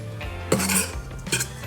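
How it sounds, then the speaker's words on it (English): Yeast and flour are stirred in a bowl, making a couple of short clinking, scraping strokes of a utensil against the bowl, close by and separated by quiet. "so in here I've just put the yeast in with the flour, so just give it a stir"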